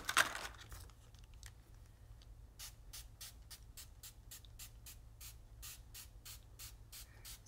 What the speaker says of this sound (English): So I'm gonna spray that part again, where those circles are